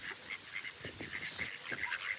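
Ducks quack and honk in a busy, overlapping chorus near the feeding spot, with repeated nasal calls coming in uneven bursts over steady background noise.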